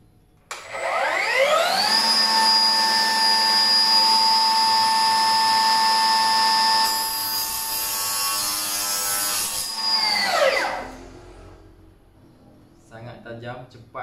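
A Milwaukee cut-off saw cuts through a piece of steel, its motor spinning up to a loud, steady high-pitched whine that holds for about ten seconds, roughens as the blade bites, then winds down, followed by faint handling noises.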